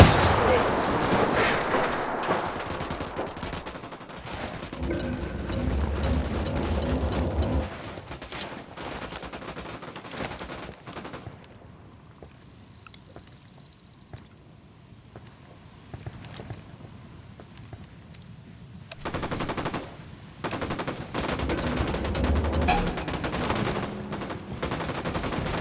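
Rapid automatic gunfire and bursts of shooting fill a Ghost Recon Wildlands firefight, loud and sustained, dropping away to a quieter lull midway before heavy firing resumes, with voices talking over it.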